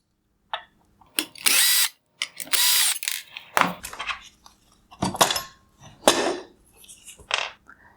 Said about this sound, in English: I will remove the 2 screws holding the lens holder in place